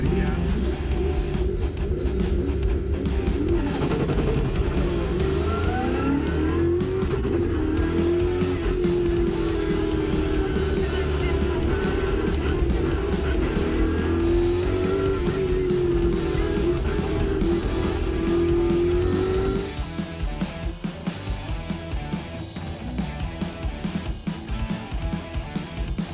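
Race cars run a speed stage of the Carrera Panamericana at Mil Cumbres, a loud engine droning and rising through gears for about twenty seconds before the sound drops and shifts, with tires and road noise throughout.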